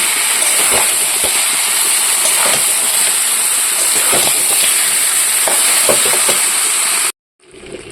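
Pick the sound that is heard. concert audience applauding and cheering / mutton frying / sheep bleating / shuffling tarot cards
mutton frying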